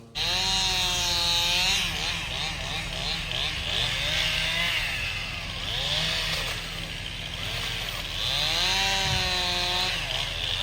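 Chainsaw cutting firewood outdoors, the engine revving up and easing off in repeated cycles as it bites through the wood, loud and near, with voices underneath.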